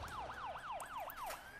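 Police car sirens wail in the city-building game SimCity 2013, a fast whooping up-and-down tone repeating steadily and clearly, with no voices over it.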